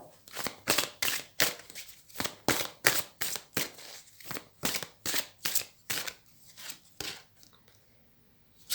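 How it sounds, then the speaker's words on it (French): Tarot cards being shuffled by hand, a quick, regular series of about fifteen soft riffling slaps at close range, with no talk, ending in a brief pause. "Qu'est-ce que je vais sortir maintenant comme carte?"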